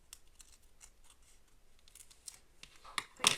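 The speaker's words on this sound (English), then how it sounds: "take the scissors to this" Scissors snip through a glassine paper bag in a string of quiet, close cuts that end in a sharper, louder final snip.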